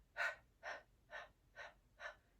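Five soft, evenly spaced breaths during a Pilates arm exercise, each a short airy exhale about half a second apart, close and quiet with no talk.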